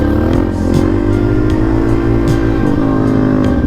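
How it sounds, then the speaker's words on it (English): A motorcycle engine in second gear is revved hard, giving a loud, close, continuous drone whose pitch rises and dips slightly over a few seconds, with no voices. "So what if I just get into second and just give it a ton of gas?"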